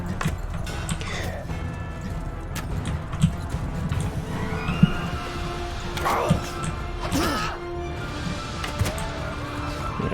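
Horses whinny and hooves clatter in a Mount & Blade 2 battle, with galloping, impacts and clashing combat noise around them throughout.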